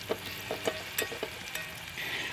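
Sausage meat sizzles in a pan on a camp stove inside a van, with soft crackles and small pops over a steady hiss, quiet and close.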